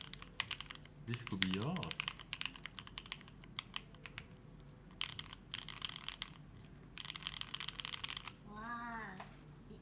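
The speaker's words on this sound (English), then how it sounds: "It sounds like a keyboard" Rapid clacking keystrokes on a Kyubi mechanical keyboard come in dense bursts and pauses, close and crisp, with people speaking briefly between them.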